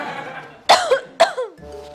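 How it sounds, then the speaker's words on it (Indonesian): Two sharp coughs in quick succession from a neighbor, fairly close and loud, each followed by a short raspy tail, with a faint hum before and after. "tetangga kita batuk."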